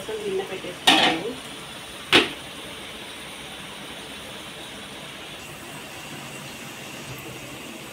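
A cooking vessel for bagara rice is set down with two sharp metallic clanks a second or so apart, followed by quiet kitchen room tone.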